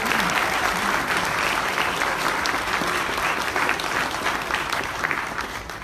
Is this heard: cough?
no